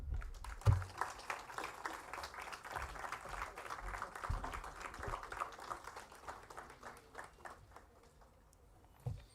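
Audience applause at an AI for Science working group meeting at IIT Bombay, a steady wash of many hands clapping for about eight seconds before tapering off, with a few thumps near the start.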